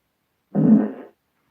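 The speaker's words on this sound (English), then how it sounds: "Play a random fart, computer." Single half-second synthetic fart sound effect played by a voice assistant, a low buzzy blurt standing alone in silence.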